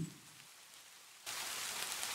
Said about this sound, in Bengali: বাহিরে ঝিরঝির বৃষ্টি